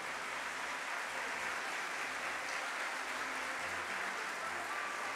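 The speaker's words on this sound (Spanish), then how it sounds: "Este es el aplauso de la comunidad de la universidad para ustedes." At a university anniversary ceremony honouring 25 years of service, the assembled community applauds in a loud, even, continuous roar of clapping lasting several seconds.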